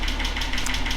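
A Datsun 280ZX's L28E inline-six runs with misadjusted valve lash, giving a steady, close, rapid ticking knock over the engine hum, with no talk.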